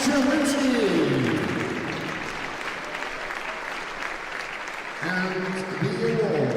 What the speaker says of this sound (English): Big applause for Marcin Czerwinski.